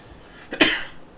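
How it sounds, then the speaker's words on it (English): A single short, harsh cough close to the microphone, preceded by a small throat catch, against quiet background. "Why am I coughing?"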